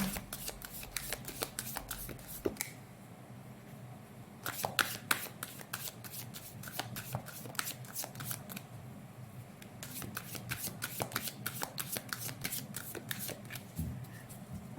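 Tarot cards being shuffled by hand, close and crisp, with rapid riffling and flicking bursts in several runs separated by short pauses, and no speech over them.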